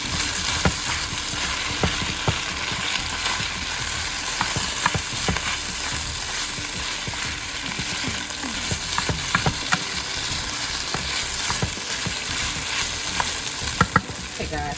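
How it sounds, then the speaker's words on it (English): Beef browning in a hot pan as it is stirred, a dense, constant sizzle with scraping and clattering stir strokes throughout, close-up and uninterrupted by any voice. "our beef is pretty much ready, but I just want it to be a little browner. So I'm just gonna let it cook a little longer"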